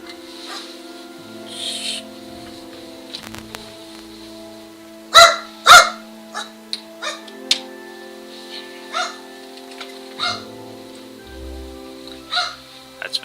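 Dogs bark in Kingdom Come: Deliverance, two sharp close barks standing out among scattered fainter ones over a steady ambient hum, with rain-like patter in the background.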